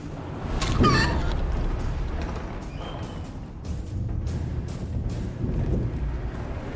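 Chicken clucking in the video game Divinity: Original Sin II after a character takes chicken form: a brief squawk near the start, then soft intermittent clucks over a low, windy background.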